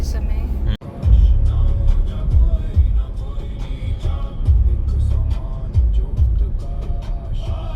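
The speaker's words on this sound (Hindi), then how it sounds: "खूब गाड़ियों की भीड़ है रास्ते पे।" Busy road traffic hums and swells on a weekend road trip as cars pass close by, a steady engine rumble beneath a person talking.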